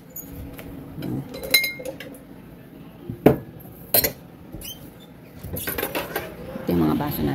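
Drinking glasses clink and knock together in short, sharp bursts as they are handled in a home kitchen dish rack, with scattered clatter over a quiet background and someone talking throughout.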